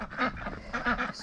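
Ducks in a backyard flock, including domestic breeds such as Ancona and runner, giving two quick bursts of loud, nasal quacking close by with no talk.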